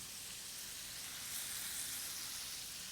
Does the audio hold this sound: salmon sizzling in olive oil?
yes